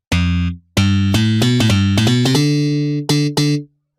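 A punchy slap bass synth plays a short riff of plucked, percussive notes with a few brief gaps, loud and clear with no voices.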